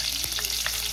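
Chopped onion and tomato sizzle in hot oil tempering for a spicy crab curry, a dense close crackle with quick spoon-stirring scrapes and pops, no voices.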